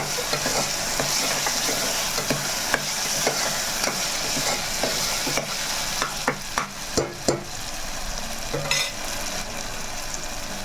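Masala paste for chicken curry fries in a pan with a constant sizzle, while a spoon stirs and scrapes it, knocking against the pan in a cluster of clacks toward the end. No voices.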